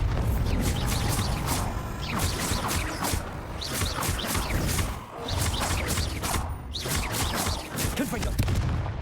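Spell explosions from Bombarda and Confringo in the PC game Hogwarts Legacy, a dense continuous barrage of booms, crashes and crackling blasts filling the whole stretch with only a brief dip midway.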